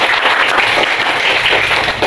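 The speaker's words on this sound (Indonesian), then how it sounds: "Tepuk tangan buat kita semua biar lebih semangat" Participants in an academic supervision coaching session break into sustained applause, a dense, even wash of clapping that fills the whole stretch with little talk.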